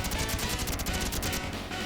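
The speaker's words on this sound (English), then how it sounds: "we're completely immune to helicopter gunfire" Rapid helicopter gunfire from the Teenage Mutant Ninja Turtles arcade game, a dense, loud stream of overlapping retro shots and crashes rattling on without pause and briefly thinning near the end.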